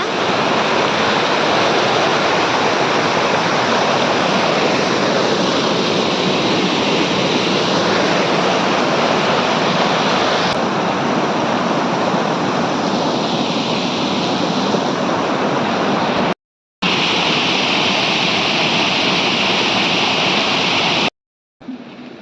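Water pouring down from an embankment in a Konkan waterfall makes a loud, unbroken rushing roar at close range, steady throughout apart from two brief dropouts near the end.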